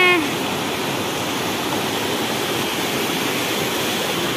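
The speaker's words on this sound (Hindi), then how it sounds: "बहुत बड़ा झरना है" Large waterfall at Chandro in Bokaro, Jharkhand, heard as a loud, steady broadband roar of falling water that fills the whole clip without pause.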